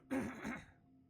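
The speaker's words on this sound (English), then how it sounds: "Also can't clear my throat enough," A single throat clearing, a short rough two-part rasp at close range, followed by quiet.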